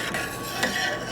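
A brief soft scrape of a utensil stirring honey syrup in a pot, made with Greek honey, with a light metallic rub or two close by and no talk.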